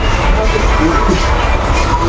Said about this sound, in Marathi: ट्रेन सध्याला निघाली आहे.